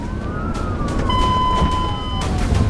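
A state trooper's police siren wails loudly and close by during a high-speed pursuit on Interstate 30, its pitch sweeping up and down over road noise.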